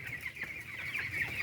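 Chickens cluck steadily in a bamboo rack coop, a close, continuous, busy clucking with no talk over it.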